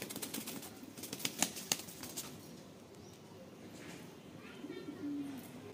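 Rampuri pigeons in a loft in Latur give soft coos, with a few sharp bursts of wing flapping early on, over low background noise and faint voices.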